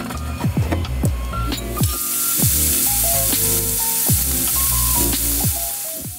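Shrimp sear in a hot pan with a loud, steady sizzle, broken by repeated clanks and scrapes of a utensil against the pan, for a loaded potatoes dish with shrimp and bacon.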